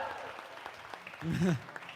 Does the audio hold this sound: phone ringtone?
no